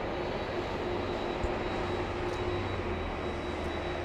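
Jet airliner at LAX, heard as a steady broadband engine roar with a low rumble and a faint high whine, continuous and fairly distant throughout, with no talk.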